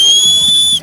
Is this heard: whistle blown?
yes